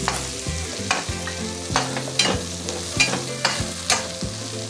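Garlic and Sichuan peppercorn being stir-fried in a pan: a steady close sizzle punctuated by regular scraping strokes of a spatula against the pan, roughly every half second to second.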